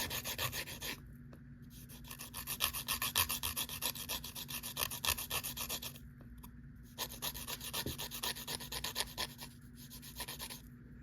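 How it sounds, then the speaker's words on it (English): A nail file rasping over builder gel nails in quick rhythmic strokes, close and fairly quiet, with short pauses between bursts of filing. "Then I like to do my finish file before the clear coat because I think that that makes the chrome last longer."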